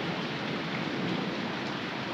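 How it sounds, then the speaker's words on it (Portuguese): Heavy rain pours steadily during a storm flooding a house, a dense constant hiss with no pauses, and no voices. "Tá chovendo muito forte."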